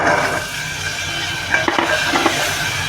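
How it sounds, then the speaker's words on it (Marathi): Green peas drop into a hot, spiced pan with turmeric and masala, crackling in a continuous sizzle while a utensil scrapes and stirs in a few clustered strokes, close and fairly loud. "आता आपण याच्यावरती वटाणे टाकून घेऊ"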